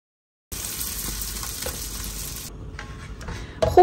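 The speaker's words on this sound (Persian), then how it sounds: "خوب که شکر و کره رو مخلوط کردیم" Melted sugar and butter sizzle and bubble in a pan while being stirred, a steady close frying hiss for a few seconds, followed by quieter scraping and a couple of clinks at the end.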